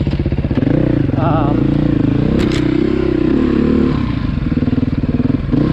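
A 2020 Beta dirt bike engine on a demo ride, loud and close, its rapid pulsing exhaust note rising and falling as the throttle changes, with no talk.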